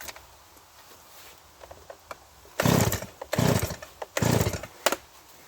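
A Stihl MS170 chainsaw revs in several short, loud bursts after quieter idling and faint knocks, each rev rising and cutting off abruptly, with no talk.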